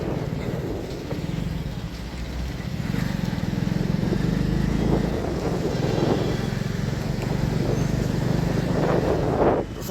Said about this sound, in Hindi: अंदाजे से चल रही मोटरसाइकिल।